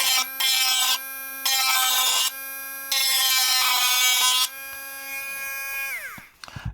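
A cordless rotary tool whines at high speed in a series of high-pitched bursts, switching between two pitches several times, then spins down near the end.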